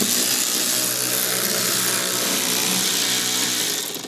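A power tool runs steadily and loudly, driving screws back in to secure a diesel car's cabin filter housing, one continuous whirring burst close by that tapers off at the end.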